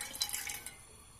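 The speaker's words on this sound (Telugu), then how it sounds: "1/2 glass వాటర్ పోస్తున్నాను" A short splash of water being poured, bright and close, fading quickly to quiet.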